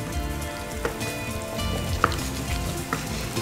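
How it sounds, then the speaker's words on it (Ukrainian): Mushrooms frying in a skillet, a steady soft sizzle with occasional faint clicks of stirring, close and continuous with no voices. "Насипаємо на сковорідку і смажимо."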